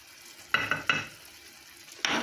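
Spiced seafood with ginger, pepper and cumin is stirred in a pan for a seafood tajine: a few short, sharp scraping sizzles come in quick bursts, with a quiet pause between them, and the last one is held longer.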